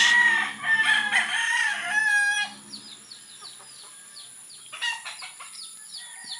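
Gamefowl in a small backyard breeding farm, hens and young stags among them. A rooster crows loudly up close, then scattered clucks and short calls follow against a quiet background.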